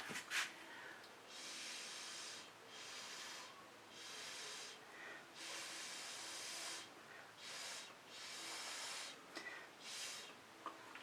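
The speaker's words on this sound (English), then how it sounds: "I think I want to blow into this white area." Soft, breathy gusts of air are blown repeatedly onto wet fluid acrylic paint, each puff a faint hiss rising and falling in a loose rhythm, close and quiet with no talk.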